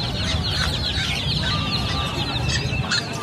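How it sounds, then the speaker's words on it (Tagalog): Many chickens cluck and chatter together close by at a pet market, a dense continuous flock noise with overlapping calls and no talking. "ang daming manok po. Benta silang mga manok."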